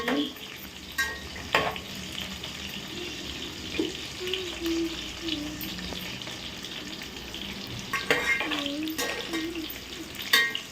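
Cauliflower and tomato fry in a pan with a low, steady sizzle, broken by sharp clanks and scrapes from stirring at close range.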